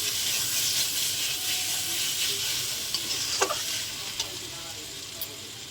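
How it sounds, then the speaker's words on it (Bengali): Spice masala of cumin and coriander powder sizzles and fries in a pan for egg curry, a steady hiss with a few scraping stir clicks, close and moderately quiet. "মশলাটা ভালো করে কষিয়ে নেব।"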